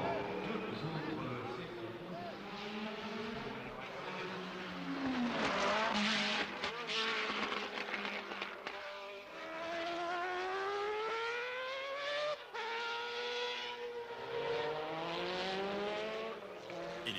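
Race cars at the 1991 24 Hours of Le Mans scream past at high speed, their engines rising and falling in pitch as they pass. A voice commentates over them throughout.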